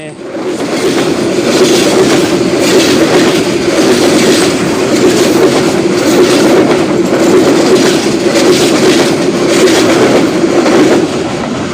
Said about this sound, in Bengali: ট্রেন যে এত দূর এত জোরে এত গতিতে যায়